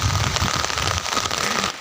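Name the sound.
light rain falling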